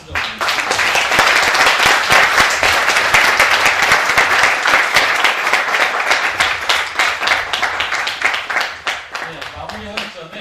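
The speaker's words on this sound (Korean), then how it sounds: "큰 박수 좀 드리겠습니다" Audience at a lecture critical of the Korea-US free trade agreement breaks into sustained, dense applause for about ten seconds, loud and close, thinning slightly toward the end.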